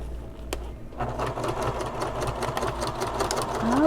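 Sewing machine stitching a convertible bag in a continuous close mechanical whir, steady throughout with a brief click near the start.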